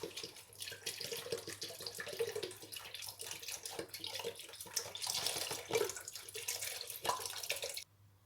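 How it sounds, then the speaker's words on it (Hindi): A steady stream of milk pours into a cooking pot, splashing continuously at close range before cutting off abruptly near the end. "तो अब हम इसमें दूध शामिल करेंगे। 1 किलो दूध डालेंगे।"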